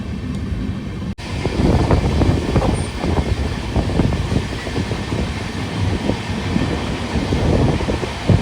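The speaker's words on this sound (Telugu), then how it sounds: "ట్రైన్ అయితే మాత్రం ఆన్ టైంకి అయితే వచ్చేసింది" A train pulling into Kadapa railway station, a steady loud rumble of wheels and carriages rolling on without pause, with no voices.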